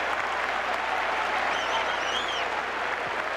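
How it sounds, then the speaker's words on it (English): A large crowd at Fenway Park cheers and applauds during a 2003 playoff game between the Oakland Athletics and Boston Red Sox, a dense, sustained roar with a few whistles rising above it. "Now Ramirez helping lead the cheers from first base."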